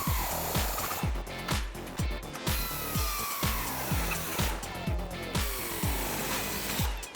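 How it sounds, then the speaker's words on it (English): Ratchet with a 15mm socket tightening clamp nuts on a Magnaflow clamp-on Tru-X X-pipe under a 2011-2014 Mustang GT, steady rhythmic clicking strokes, about ten evenly spaced pulls, close and fairly loud. "You'll tighten up these nuts, the clamps will tighten together"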